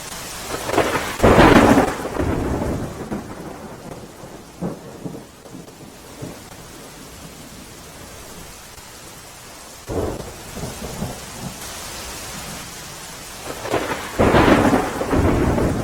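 Torrential rain in Rajkot district pours steadily while loud rolls of thunder burst in several times, some close and booming, others fainter.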